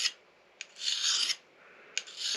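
Knife blade sharpened outdoors on a sharpening stone: two long, close abrasive rasping strokes, each opened by a sharp scrape, separated by a brief pause.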